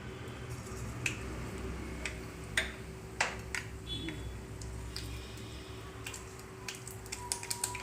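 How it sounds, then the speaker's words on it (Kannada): Mustard seeds splutter in hot oil for tempering, giving scattered sharp pops and crackles at irregular intervals over a low steady kitchen hum, fairly faint and close by. "ಈಗ ಸಾಸಿವೆ ಹಾಕ್ಕೊತಾ ಇದ್ದೀನಿ."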